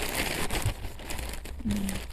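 An old Soviet food packet crinkles and rustles in close handling, with a few sharp crackles and a brief low tonal sound near the end.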